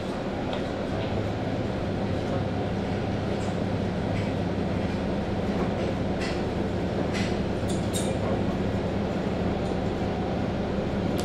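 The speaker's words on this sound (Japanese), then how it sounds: "電車は下灘駅を出発いたします。" A JR Shikoku KiHa 185 series diesel railcar pulls out of Shimonada station on the Yosan Line, its steady engine rumble and rolling rail noise filling the cabin continuously, with faint clicks and a voice speaking over it.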